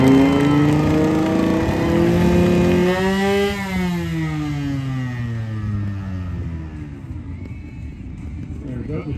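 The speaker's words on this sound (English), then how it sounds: "It's something we call cleaning the motor out. Making sure that that thing's gonna rev up really nice when I hit the gas" A motocross motorcycle engine at a freestyle stunt show revs high and then winds down, its pitch rising to a peak and sliding away, loud and close, with crowd noise and a voice beneath it.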